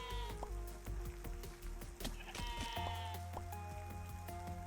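Sheep bleat repeatedly in the video game Necesse, several calls overlapping in close succession over steady game music and ambient sound, with no talk.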